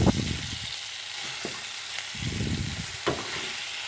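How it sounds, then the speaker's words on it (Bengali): Eggplant slices frying in a pan, a constant soft sizzle broken by a few close scraping turns of a spatula, with no talking. "এরকম করে কিছুক্ষণ পনেরো মিনিট ভাজতে হবে"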